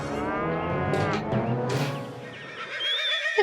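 A man imitates a donkey with his own voice, giving loud, drawn-out, braying cries in a rough hee-haw pattern that fill the whole moment.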